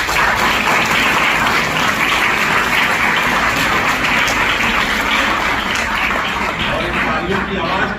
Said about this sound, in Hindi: जोरदार तालियां भी।